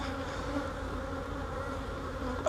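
Honey bees hum in a faint, continuous buzz close by at a hive while nucs are being installed, with no voices.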